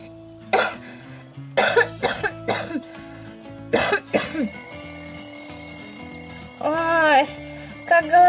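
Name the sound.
alarm clock ringing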